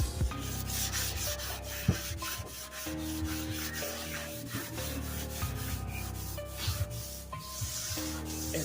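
Sandpaper rubs steadily over a single thin pass of spray-can patina paint on a 1969 Chevy C10, a close, continuous scratchy scrubbing with rhythmic strokes and no talking.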